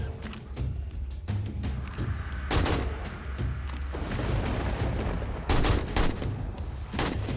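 Automated turrets in 7 Days to Die blasting at a zombie mob, a dense, steady fusillade of gunfire with louder bursts of shots, close and continuous throughout.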